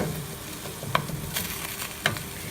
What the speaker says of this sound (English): I'm going to go back over here to my onions, kind of give them a stir, make sure they're not sticking